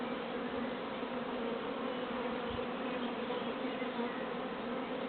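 A dense, steady buzzing of many honeybees in a hive, continuous and close, with no pauses and no voices.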